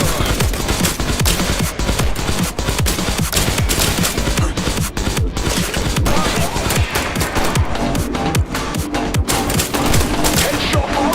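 Gunfire in a first-person shooter video game, dense and loud bursts of automatic fire mixed with single shots, a near-continuous barrage running throughout.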